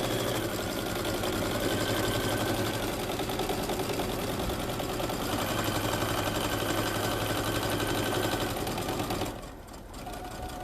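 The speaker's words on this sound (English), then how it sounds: "I'm going to go back stitch a little bit, and then I'm going to forward stitch" A sewing machine back stitches briefly and then stitches forward while sewing curtains, a loud, close, continuous mechanical whir that drops off near the end.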